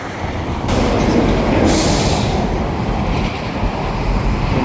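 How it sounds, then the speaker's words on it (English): A two-car train couples up in a rail yard, a loud, steady rumble and hiss with a sharp burst of air-brake noise partway through; no talking. "Coupling up to this train here, two-car train."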